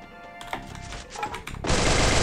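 Rapid bursts of VSS suppressed rifle fire in a battle royale game, sharp clustered shots in quick succession, ending in a loud sustained roar of noise.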